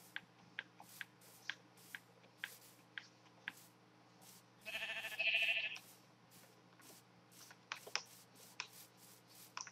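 Sheep bleating in the game Minecraft, several short repeated bleats spaced through the scene alongside steady computer keyboard typing, with one longer louder sound midway.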